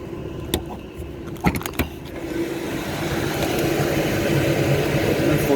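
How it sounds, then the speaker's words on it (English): Blower of a furnace on a no-heat service call, a steady broadband airflow rumble that swells and settles in after a few clicks and knocks at the start, close and continuous. "Here the blower is running."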